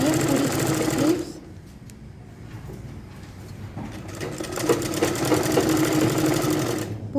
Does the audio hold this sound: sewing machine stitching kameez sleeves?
yes